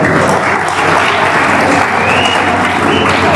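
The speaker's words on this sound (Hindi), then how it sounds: "एक मर्तबा ताली बजा दो" A large audience claps in a dense, loud, continuous wash of applause that holds steady throughout, with a faint murmur of crowd voices underneath.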